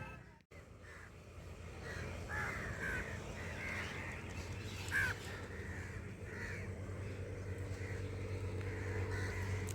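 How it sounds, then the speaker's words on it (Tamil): A flock of around fifty crows caws repeatedly while bathing together, the calls overlapping over a steady outdoor background with no talk. "கிட்டத்தட்ட ஒரு ஐம்பது காக்கா இருக்குன்னு நினைக்கிறேன்"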